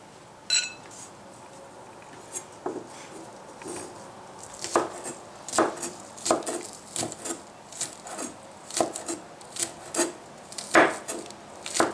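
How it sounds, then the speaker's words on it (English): Knife chopping a bunch of green onion on a cutting board, irregular quick thuds that start sparse and grow into a steady, close rhythm with no talk. "then I chop up 1 bunch of green onion, typically"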